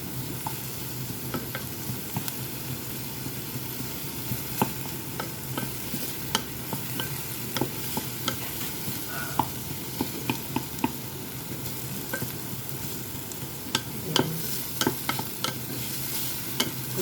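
Tomatoes sauté in a pan for adobong pusit, squid cooked in adobo, with a steady soft sizzle broken by frequent sharp clicks and scrapes of stirring, close and fairly quiet throughout.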